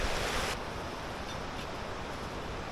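Savatkada waterfall, swollen with monsoon water, makes a steady broadband roar of rushing water, heard fairly close and continuous with no distinct events.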